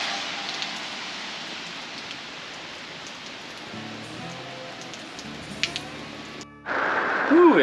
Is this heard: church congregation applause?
no